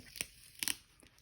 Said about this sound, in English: Yay, it peels off so I can use it.